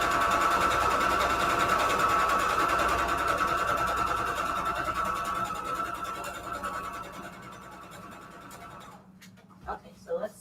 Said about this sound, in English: let's sew a couple strips together